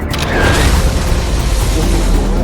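Loud, sustained rumbling blast from an explosion during an attack on an airbase, a broad roar that persists without pause, captured in news footage.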